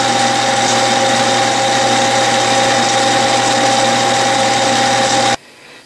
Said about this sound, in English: here I am on the closing lathe, turning the gear blank down